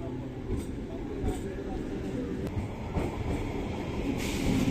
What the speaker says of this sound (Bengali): বন্ধুরা চলে এসছে আমাদের ট্রেন,